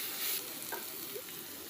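Onions frying with ginger garlic paste in a kadai for restaurant-style kadai chicken, a steady soft sizzle with a faint stir scrape partway through, no talking.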